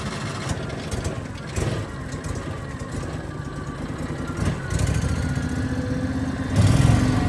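A Snapper Trail Cruiser lawn cart's small engine runs steadily at close range, a continuous mower-like drone that swells louder near the end as it picks up.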